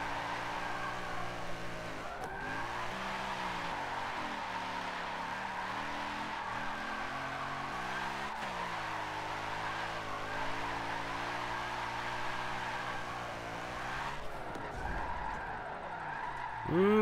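An Audi RS4 engine hums steadily with sweeping pitch shifts and tire screech as it drifts through turns in Forza 7, continuous with faint sounds beneath.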